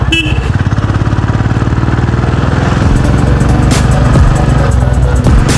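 A motorbike is ridden along an empty lockdown road in Waling, Syangja, its engine close and loud with a steady pulsing throb that climbs and shifts as it accelerates.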